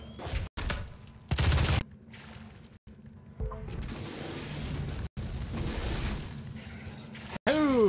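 Gunfire in the DOOM SnapMap game: bursts of loud shots and explosive blasts come in clusters with brief gaps, mixed with game effects and a whooshing sweep near the end.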